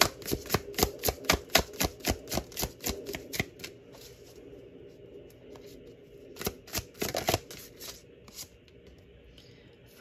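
Tarot cards are shuffled close up in a quick run of about a dozen crisp riffling snaps, then a pause of soft handling before a second short burst of shuffling as the cards are laid out, with no talking.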